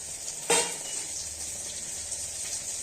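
Eggplant, garlic and green chilli sauté in hot oil with a loud, continuous sizzle, opened by a sharp burst as something drops into the pan, then a steady hiss with faint stirring.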